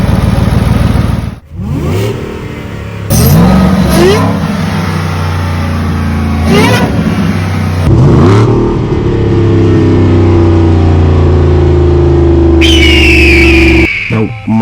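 A 2021 Ford F-150 Shelby Super Snake's Whipple-supercharged V8, rated at 775 horsepower, revs loudly up close in several sharp blips, then holds a long, steady high idle with a rising supercharger whine near the end.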